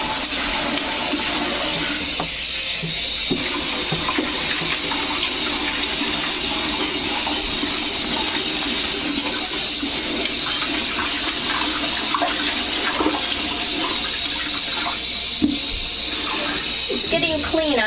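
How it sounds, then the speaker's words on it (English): Running water pours over aquarium gravel as it is rinsed in a container until clear, a loud continuous splashing gush lasting throughout with brief shifts in flow. "you just keep rinsing until the water's clean."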